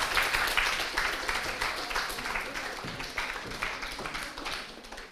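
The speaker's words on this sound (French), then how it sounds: "Je crois qu'on peut l'applaudir bien fort" An audience at an eloquence contest final applauds a speaker, a fairly quiet, even stream of clapping that fades slightly toward the end.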